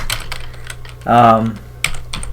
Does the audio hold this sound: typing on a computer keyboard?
yes